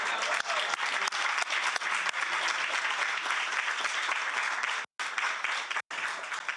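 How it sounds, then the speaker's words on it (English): Sustained audience applause fills a session of a congress of a European network of family-friendly municipalities, dense and steady clapping throughout with two brief dropouts near the end. "It's possible applause for Raul for this service today."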